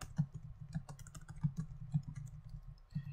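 Typing on a computer keyboard while building a website: quiet, uneven taps and clicks of keys, close and faint, alone without speech.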